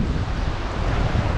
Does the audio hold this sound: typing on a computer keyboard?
no